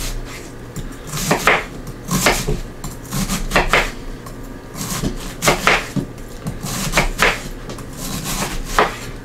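A kitchen knife chops cabbage into strips on a cutting board for corned beef and cabbage, giving about a dozen sharp, close knocks in uneven bursts with no talking.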